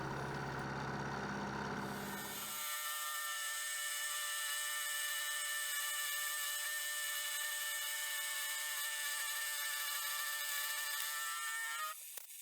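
A milling cutter machining an indent into a steel hand vise part in a home shed workshop, steady high whining drone after a short loud start, continuous and close with no talk.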